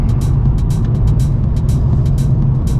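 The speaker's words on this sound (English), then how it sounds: "this is my Golf GTI 2018" A 2018 VW Golf GTI Mk7.5 hums with a steady, loud low drone from inside or close by, overlaid with faint repeated clicking and ticking, no voices.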